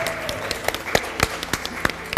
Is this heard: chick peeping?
no